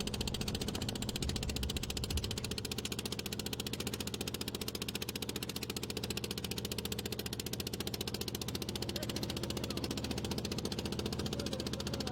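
A trawler boat's engine drones steadily and loudly throughout as it crosses the Sundarbans waterways toward Hiron Point, a constant low mechanical rumble with no pauses.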